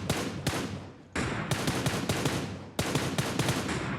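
Automatic rifle gunfire in PUBG Mobile, an M4 firing loud, sharp bursts of rapid shots in several clusters across the span, with no talk over it.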